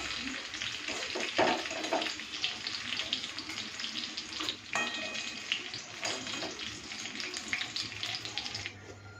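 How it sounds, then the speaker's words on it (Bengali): Shrimp fry with onion and garlic in a wok, a continuous close hissing sizzle holding steady throughout, broken by a few soft utensil knocks and stirring sounds. "পেঁয়াজ রসুনের সাথে চিংড়ি মাছটাকে পুরো লাল করে ভেজে নিয়েছি"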